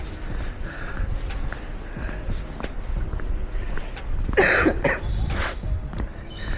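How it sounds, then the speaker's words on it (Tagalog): A runner with a lingering cough during marathon training coughs once, a sharp burst midway through, amid ambient outdoor noise and faint footsteps. "Hirap na may ubo."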